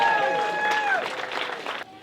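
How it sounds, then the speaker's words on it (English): An audience at a Quahog Day gathering in a Falmouth bar applauds, a busy wash of clapping and crowd noise heard under a whistle-like tone and a voice, cutting off sharply near the end. "I think he deserves another round of applause"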